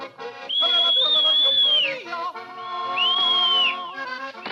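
A girl whistles in an animated Heidi cartoon set in the mountains: two long, clear, bright melodic phrases with gliding pitch, over soft orchestral music with no talking.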